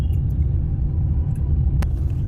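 A car rolling slowly in third gear on a public road, its engine a steady low rumble heard from inside the cabin with a couple of faint clicks and no talking.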